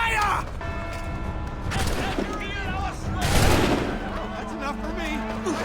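A musket volley in Assassin's Creed III crashes out as a loud burst in the middle, under raised voices and a battle din that runs throughout.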